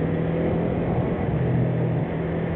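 Large-displacement motorcycle engine revving, a steady loud low rumble with a constant droning tone that holds evenly with no pauses and no voices.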